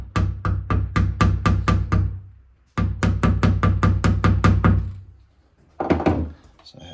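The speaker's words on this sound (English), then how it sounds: "Hammer this metal in carefully." A hammer strikes metal hardware into an entry door in two fast runs of about eight sharp, ringing blows each, close and loud, followed by a brief scraping clatter.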